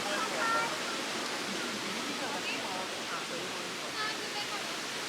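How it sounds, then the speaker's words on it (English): Steady rushing water pours continuously, a dense broadband roar of a waterfall at Turure Watersteps (Cumaca Falls), Trinidad, without pause. "Water flowing."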